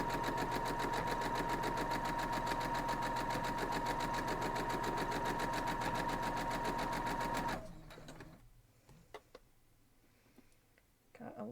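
A sewing machine stitching half square triangles of quilt fabric, running fast and steady for several seconds with a rapid, even ticking, then stopping abruptly, followed by faint handling clicks.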